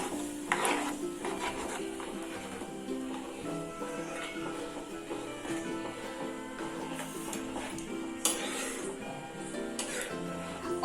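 Garlic and ginger fry gently in a generous amount of oil for Schezwan sauce, giving a steady low sizzle with intermittent stirring and utensil scrapes, a few sharper clinks standing out.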